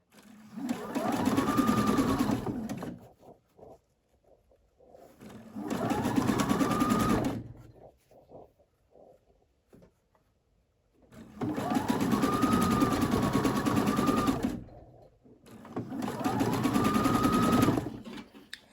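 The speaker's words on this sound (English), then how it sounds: "we're going to use the 3-step zigzag on both sides" A sewing machine stitches lace with a 3-step zigzag, running in four steady bursts of a few seconds each, with short quiet pauses between them.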